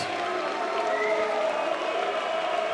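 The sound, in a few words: applause for both boxers after the bout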